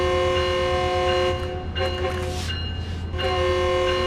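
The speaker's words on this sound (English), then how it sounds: "I do hate that I have the bell comes on when I honk." In Train Sim World 6, a Long Island Rail Road diesel train sounds its horn with the bell ringing along: a steady, loud chord-like horn held over a low engine rumble, continuous for the whole stretch.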